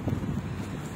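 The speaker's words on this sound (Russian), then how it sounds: "И большой ветер." Gusty wind roars and buffets the microphone in a low, continuous rumble in Odesa in winter, brief and steady without any other distinct sounds.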